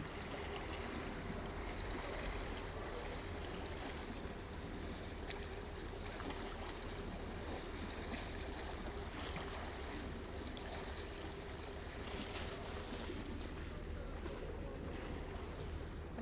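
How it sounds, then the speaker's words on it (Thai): Water lapping against the shore near a boat landing, a steady broad wash with low rumble and a faint high whine, continuous and moderately loud with no talking. "น้ำกระทบฝั่ง"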